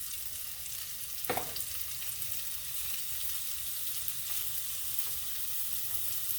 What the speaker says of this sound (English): So now I'm going to drop them in with the sausage